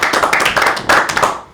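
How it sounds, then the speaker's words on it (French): A small group claps together during a Secret Santa gift exchange, a short close burst of uneven hand claps that fades out after about a second and a half. "Très bien, on applaudit."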